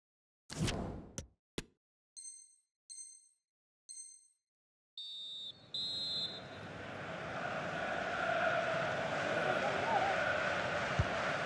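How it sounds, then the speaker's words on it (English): A referee's whistle in a FIFA 23 match at Old Trafford blows for half time as a series of short, shrill blasts, followed by a rising wash of crowd noise. "And so the referee blows the whistle."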